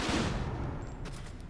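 Gunfire from the video game Fighting Force 2: a burst of rapid shots fading into a rumbling, reverberant tail, fairly loud with no talking.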